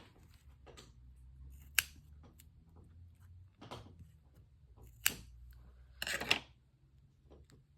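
Scissors snip off a corner of card for a scrappy handmade card, a few sharp close clicks spread out in a quiet room, with a brief shuffle of paper handling between them.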